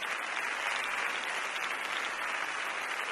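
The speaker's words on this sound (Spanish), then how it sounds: "el público aplaude puesto en pie" Theatre audience in Mérida giving a standing ovation, a steady, even roar of clapping heard from a distance, continuous with no voices.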